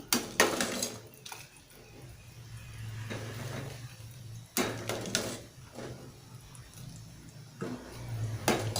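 Green bean and tofu curry with coconut milk being stirred in a pot, with scraping and knocking bursts of a utensil against the pot over a low steady simmering hum, repeated several times.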